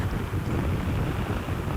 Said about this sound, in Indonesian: tiba-tiba kita terjebak di dalam badai, kabut tebal, angin kencang